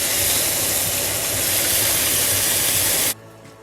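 Snapper fillet sizzling in a hot pan after being flipped, a loud, steady broadband hiss that runs evenly for about three seconds before cutting off abruptly to near quiet.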